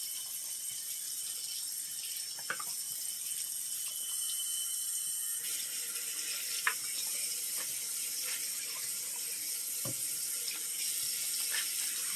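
Slightly hot water pours steadily from a tap into a sink, a constant hissing splash throughout, with a few faint clicks and knocks near the basin.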